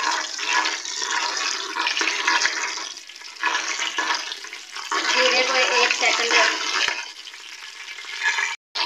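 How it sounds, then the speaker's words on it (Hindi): White cumin seeds sizzle in half a cup of hot oil, a loud, close crackling hiss that surges and dips in waves. A sharp clatter comes near the end, and no one speaks. "इसके अंदर आधा कप ऑयल डाल लिया है। अब इसके अंदर सफ़ेद ज़ीरा डाल लेते हैं। तेल हमारा अच्छे से गर्म हो चुका है।"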